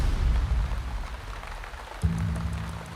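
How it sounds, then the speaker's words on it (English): Rain falls steadily on a wet race track, a continuous broad hiss with a low rumble, and a steady hum comes in partway through. "It started raining 1 hour ago. It's a proper wet condition."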